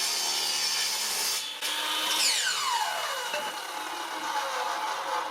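Saw cutting through wood inside an RV during demolition of water-damaged sections, a steady close rasping stroke with a brief pause early on, then a descending whine as the cut continues.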